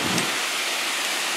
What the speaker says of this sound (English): you can see that the waterfall is a lot bigger